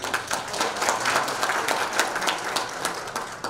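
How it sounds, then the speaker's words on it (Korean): Clapping from an audience at a Rotary district representatives' training session, close and lively with distinct individual claps in a steady, energetic burst, no voices over it. "박수 한번 쳐주세요."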